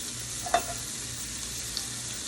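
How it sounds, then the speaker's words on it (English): Onions sauteing in oil in a pan for smothered liver and onions, a steady broadband sizzle throughout with a brief louder stir or clatter early on, close and alone. "we're gonna saute these onions to the golden brown"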